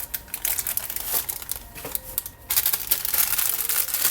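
A paper packet of Jiffy corn muffin mix is squished and kneaded by hand to break up clumps, producing close, continuous crinkling and crunching that grows louder partway through.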